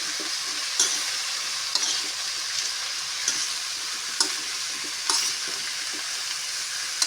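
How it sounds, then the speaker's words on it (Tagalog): Shrimp sautéing in a pan for ginataang langka, a steady close sizzle broken every second or so by sharp scraping clicks of a utensil stirring against the metal. "igisa na rin natin yung hipon niya"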